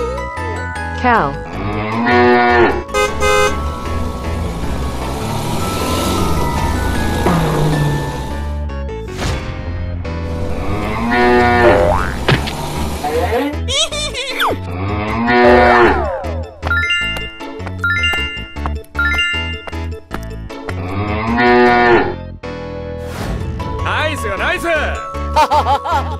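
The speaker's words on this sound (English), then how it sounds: "Cow." Cow mooing several times, loud drawn-out calls between bright chimes and playful music, with a voice speaking among them.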